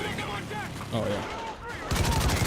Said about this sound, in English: I think it's the Scar 762